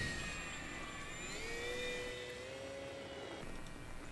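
A Parkzone P-47D Thunderbolt RC plane flies overhead, its electric motor giving a thin, steady whine that rises and falls in pitch as it passes, moderately faint and alone.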